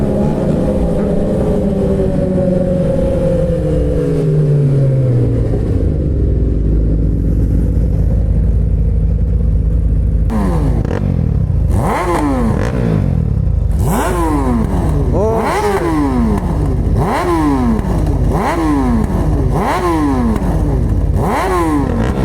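Suzuki GSX-R motorcycle ridden in first gear, a loud close engine that idles and revs, then climbs in repeated sharp rising surges with brief drops between, roaring steadily from start to finish.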